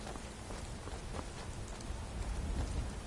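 Rain falls in Skyrim, a continuous, moderately quiet hiss of drops on the ground that swells slightly toward the end, with no voices over it.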